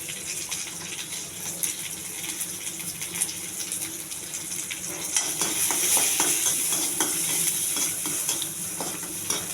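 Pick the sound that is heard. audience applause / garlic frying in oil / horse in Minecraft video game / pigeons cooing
garlic frying in oil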